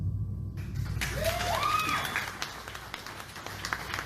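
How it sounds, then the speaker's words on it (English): An audience claps steadily for about four seconds, a dense wash of hands with a few thin rising whistle-like tones early on, fairly close and with no clear talk. "These people are clapping because it did."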